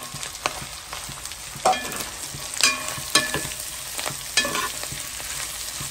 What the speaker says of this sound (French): On va mettre un bon peu d'oignons.